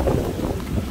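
Strong wind buffets the microphone in a steady low roar, with no other clear sounds, on Pacaya Volcano in Guatemala.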